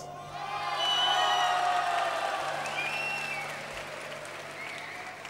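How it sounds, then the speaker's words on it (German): Studio audience applauding and cheering for the 1960s Swedish pop group The Hep Stars at a television introduction, a steady swell of clapping that builds, holds and fades over several seconds. "noch einmal ein bisschen Applaus"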